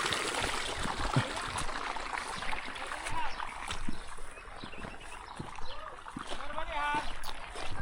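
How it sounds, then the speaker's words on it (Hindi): Water splashing and sloshing while feet are washed in a farm field during a walking pilgrimage around the Narmada, with irregular splatters close by over steady outdoor background noise. "पैर धो लिए।"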